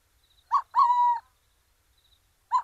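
Recorded owl calls, presented to help identify owl species and distinct from a great horned owl: a short hoot, a longer drawn-out whistled note, then a quieter pause before another brief call, clear and isolated against silence.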